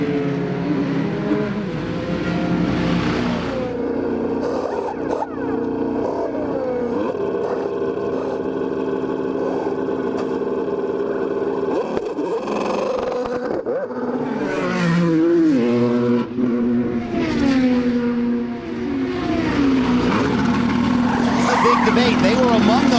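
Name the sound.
IndyCar race cars colliding, tires skidding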